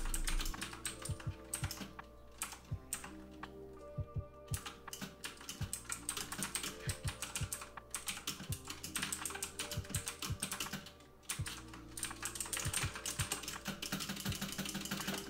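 Rapid, continuous clicky typing on a cheap mechanical keyboard with blue switches, close up, with a brief pause partway through and no talking.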